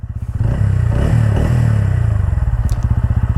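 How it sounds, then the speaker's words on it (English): A TVS Ronin motorcycle's exhaust note recorded from inside the rider's helmet: a steady, close, loud engine drone that rises with throttle and settles into a pulsing single-cylinder thump, with no talk over it. "listen to the exhaust note of this bike"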